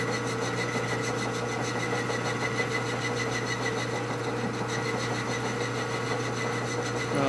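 A metal lathe runs steadily while turning a Milwaukee-Eight crankshaft flywheel in a workshop, giving a continuous, even mechanical hum and whir with no talking.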